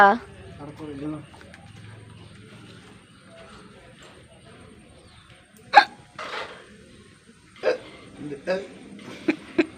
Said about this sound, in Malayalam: എക്കിട്ട് നേരമായി